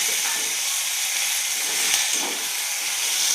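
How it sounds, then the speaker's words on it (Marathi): Potatoes sizzle in hot oil in a pan while onion poha is being cooked, a loud, steady close hiss with only slight swells. "आता बटाटे टाकले."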